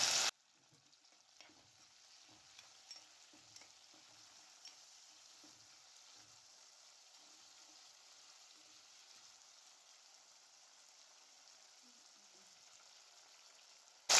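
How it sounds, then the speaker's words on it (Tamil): Onion, garlic and chopped tomato frying in a pan, a soft steady sizzle with occasional faint stirring clicks, quiet throughout. "வெங்காயம் வெள்ளைப்பூடு நல்லா வதங்கினதும் ஒரு தக்காளி நறுக்குனதை சேர்த்துக்கிறேன்."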